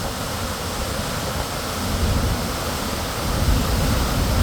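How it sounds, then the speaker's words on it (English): Sahalie Falls pours in a continuous, even roar of falling water, a steady broadband rush with no pauses, moderately loud and close. "My favorite waterfall ever in the world."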